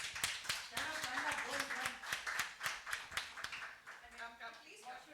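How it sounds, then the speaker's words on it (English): Scattered hand claps ring out with voices and cheering mixed in, a lively crowd applauding in a busy room at a literature festival in Bhopal. "Please welcome them on the stage with a huge round of applause"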